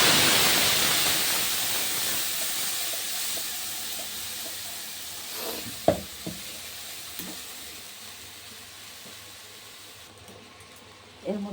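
Spice paste for an egg-and-poppy-seed dish dropped into hot oil, a loud hiss that slowly fades to a soft, steady sizzle with a few faint clinks and stirring knocks.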